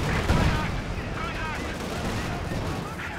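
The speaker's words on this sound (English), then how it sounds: "Under too much tank fire." Tank gunfire and explosions in the strategy game Company of Heroes 2, with Panzer IVs engaging a ZiS gun; dense, continuous booming battle noise with layered blasts under ongoing commentary.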